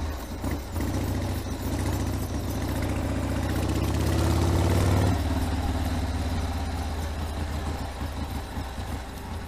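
A 1979 Harley-Davidson Ironhead Sportster idles close by, its engine thumping with a loud, lumpy low rhythm that swells briefly before settling back to a steady idle.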